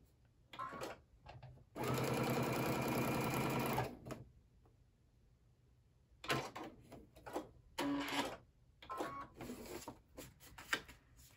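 A sewing machine stitches a fabric greeting card with a short stitch length, in several bursts: a steady two-second run, then shorter stop-start stitching, close and clear with quiet gaps between.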